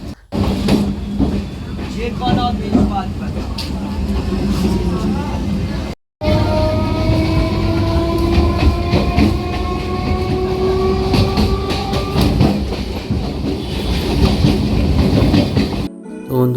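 A local train in West Bengal near Ranaghat running on rails, with loud continuous rolling rumble, rhythmic wheel clatter and sustained screeching tones, heard from inside, briefly cutting out twice; voices are faintly present.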